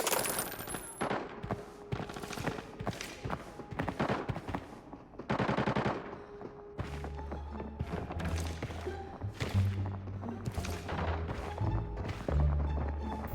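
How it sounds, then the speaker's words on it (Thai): Bursts of automatic gunfire crack and rattle in Arena Breakout as players chase each other in a firefight, the first half dense with rapid shots and later volleys sitting over a low droning background. "น่าจะไล่ยิงกันอยู่ครับผม"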